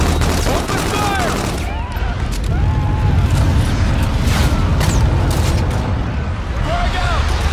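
Dense gunfire and booming blasts in the video game Call of Duty Infinite Warfare during a city attack, loud continuous bursts with shouting voices over the top throughout.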